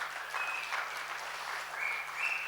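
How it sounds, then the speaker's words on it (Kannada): A crowd of women in the audience at a live stand-up comedy show in Karnataka clapping together, a dense, steady wash of applause lasting a couple of seconds, heard from a distance without speech. "ಇಲ್ಲೆಲ್ಲ ಹೆಣ್ಮಕ್ಳು ಚಪ್ಪಾಳೆ ತಟ್ಟಿದ್ದೀರಿ."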